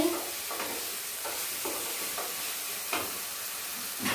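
Masala and potatoes sauté in oil in a pan for a cutlet curry, a steady sizzling hiss broken by repeated scraping stirs, close up, with no talk.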